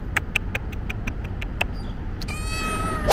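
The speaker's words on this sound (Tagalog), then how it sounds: "may lumapit sa akin pusa dito sa park" A cat meows in an outdoor park, a series of short repeated mews spaced evenly and close by, ending in a longer drawn-out cry.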